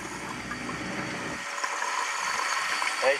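Fuel rushing into a car's tank from a pump nozzle, a steady close hiss and gurgle whose pitch rises as the tank fills, ending in a brief bubbling surge.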